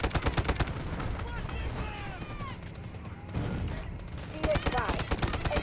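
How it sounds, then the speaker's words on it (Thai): Heavy gunfire in the Delta Force Mobile shooting game, with rapid bursts of automatic shots that fill the whole stretch, loud and close, and a short lull in the middle. "ดักยิงปืนแรงมากปืนนี้ ดักยิงยิง"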